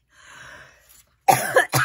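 A few sharp coughs close to the microphone, preceded by a faint throaty rasp, with brief pauses between bursts.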